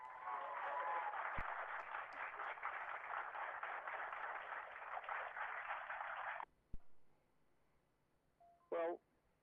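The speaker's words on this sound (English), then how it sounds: "Everyone a big cheer and a thank you." Cheering and applause from an audience at an amateur radio ARISS telebridge event, a faint, hissy wash of clapping and crowd noise lasting about six seconds before cutting off abruptly into near silence with a short chirp afterward.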